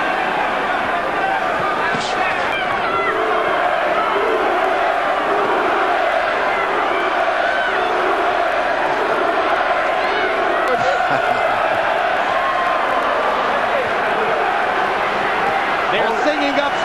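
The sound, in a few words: English boxing fans chanting "Lewis" in the arena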